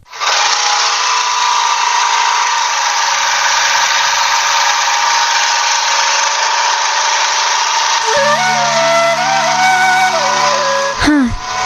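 A scooter engine hums steadily throughout, a continuous buzzing drone carried along a rubber estate road, and near the end it shifts in pitch as if the rider slows or changes gear.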